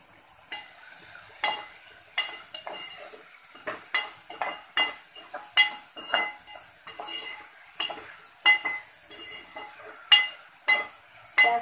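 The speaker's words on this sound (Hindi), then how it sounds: "अब हम इसमें प्याज डालेंगे।" Onions stir in a hot pan with a soft sizzle beneath repeated sharp scrapes and clinks of a spoon against the metal, coming in an uneven rhythm close by; no voices.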